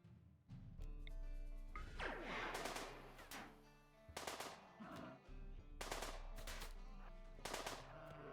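Gunfire erupts in the video game Rimworld as loud, rapid bursts of automatic shots, repeated several times with short pauses between volleys and a constant low rumble beneath.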